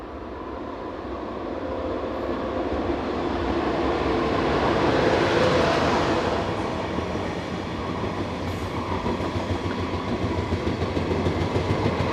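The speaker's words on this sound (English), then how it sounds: "Two types of high-speed train set are seen here, one German designed, one French." High-speed train, a German ICE or French TGV, sweeping past as a smooth rising and fading rush of wheel and air noise with faint rail clatter, no voices.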